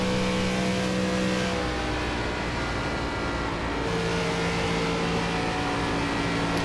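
ARCA Menards Series stock car engine at full throttle in the iRacing simulator at Charlotte, a loud sustained drone with steady harmonic tones that dip and shift as gears and pitch change.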